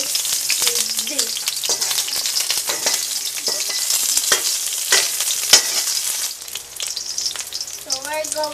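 A spoon stirs pork sinigang in a cooking pot, making repeated scraping and clinking strokes over a steady bubbling sizzle, loud and close, with a short burst of voice near the end.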